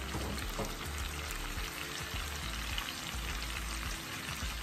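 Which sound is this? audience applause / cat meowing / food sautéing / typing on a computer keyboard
food sautéing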